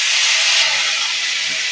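Ground mustard and green chilli paste sizzles in hot oil for hilsa curry, a steady loud hiss of frying that holds throughout without pause.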